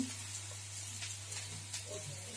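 Turmeric, cumin and coriander powder sizzle in hot oil in a pan for egg tarka, giving a soft steady frying hiss with faint stirring scrapes over a low hum.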